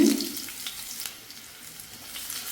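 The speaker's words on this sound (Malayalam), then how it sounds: "ചെറിയുള്ളി നന്നായിട്ട് തന്നെ ഒന്ന് മൂപ്പിച്ചെടുക്കും" Chopped shallots frying in coconut oil with mustard seeds for a paal kappa dish give a steady hissing sizzle, close and moderately loud, with a brief louder burst at the very start and faint crackles after it; no one speaks.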